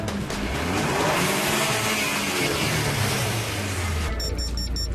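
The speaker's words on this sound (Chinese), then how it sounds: "得啦，踩油门啦" A new car's engine revs steadily as the accelerator is held down, a loud, continuous roar close by that drops away near the end, with no voices over it.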